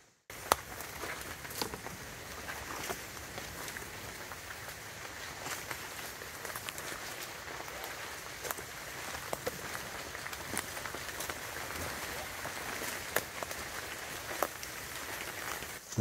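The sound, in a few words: light rain falling in a rainforest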